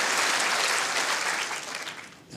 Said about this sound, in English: the crowd appreciates it as well.